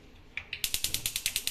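New Brastemp gas stove being switched on, its electric igniter clicking in a rapid, even series of about ten sharp ticks after two softer opening clicks, close and clear.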